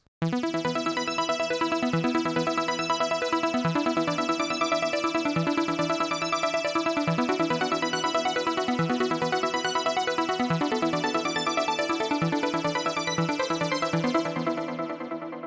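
A steady, bright synthesized melody plays over a sustained low bass note, evenly loud throughout, then fades at the end.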